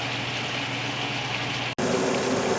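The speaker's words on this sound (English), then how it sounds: "Okay, the water is boiling." A pot of water rolls at a full boil on the stove, ready for leeks, giving a steady, close hiss and bubble that runs unbroken except for one brief cut partway through.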